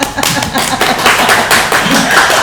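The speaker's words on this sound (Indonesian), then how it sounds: "tepuk tangan dong." An audience at an Indonesian motivational gathering claps hands in a brisk, uneven patter that runs steadily for a couple of seconds, mixed with faint room noise.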